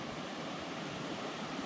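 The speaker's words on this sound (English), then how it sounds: "And I even have my own personal little waterfall there tonight." A small waterfall beside a stream at a backcountry campsite in a wilderness area, a steady, close, broadband rush of falling water with no voices.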